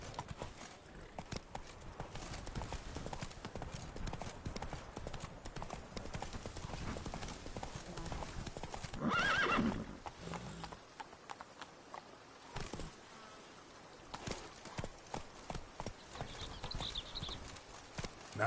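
Hooves of Roach, Geralt's horse in The Witcher 3, clip-clop in a steady quick rhythm close by and loud throughout, with a brief whinny and scattered game ambience.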